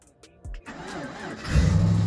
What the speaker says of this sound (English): I just wanted to get a cold start for you guys now in the morning